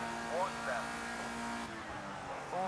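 A Porsche race car in a racing video game set at Monza gives a low, steady engine drone with brief tyre chirps, heard faintly beneath someone talking.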